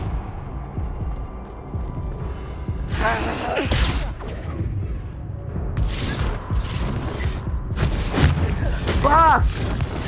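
Confringo fire-spell blasts in Hogwarts Legacy during a chaotic duel, with repeated booming bursts and crackling impacts layered over continuous combat noise and shouting.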